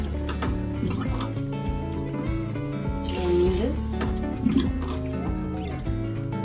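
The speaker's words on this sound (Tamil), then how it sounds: "இப்போ நம்ம அதுக்கு தகுந்த மாதிரி தண்ணி சேர்த்துக்கணும்" Water pours and trickles into a pot of soaked rice for vegetable biryani in an uneven stream, close by, with a few drips, while a voice talks over it.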